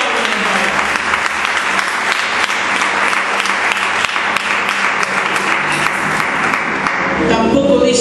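A church congregation at a Spanish-language service bursts into loud, dense applause that holds steady and continuous throughout, with a brief change in sound near the end.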